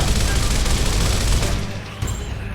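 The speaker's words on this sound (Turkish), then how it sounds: "bu doldurdu mermiyi salacak bize şimdi" Enemy gunfire in the video game Gears of War, a dense, loud, continuous barrage of shots and blasts that eases slightly near the end, with faint speech underneath.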